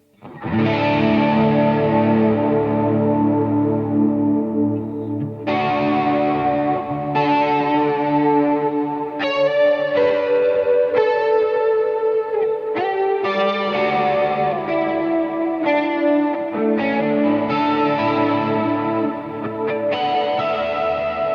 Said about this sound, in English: And of course into the Revelation V2 reverb.